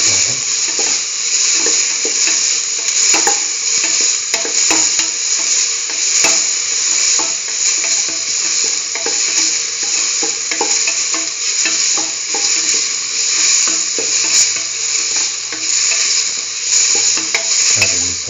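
Potatoes and broccoli sauteing in a pan for a mustard stew, a loud continuous sizzle close up with scattered scrapes and clicks of stirring throughout, no voices.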